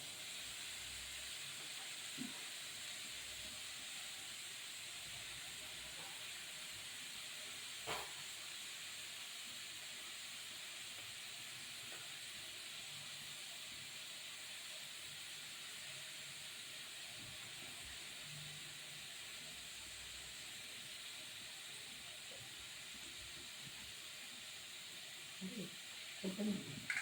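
Mustard seeds heat in hot oil in a pan with a faint, steady sizzling hiss and a few sparse, soft pops scattered through it.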